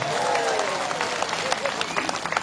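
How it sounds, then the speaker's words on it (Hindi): Crowd applause at a political rally in Yachuli, Arunachal Pradesh, a dense steady clapping wash heard alongside a voice carrying through the start. "आप लोग के लिए और एक बार ताली होना"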